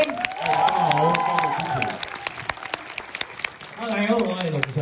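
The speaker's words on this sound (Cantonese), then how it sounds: "俾啲掌聲俾我哋陶導演" An audience applauds the director at a film screening event, a dense run of clapping that fills the room under a host's amplified voice, easing off near the end.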